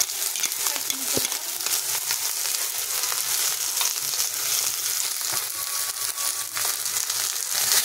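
Sliced onion and a ground paste of garlic, ginger, dried chilli and cumin sizzle in hot oil in a pan for boal fish kalia, a steady close crackle with occasional stirring scrapes.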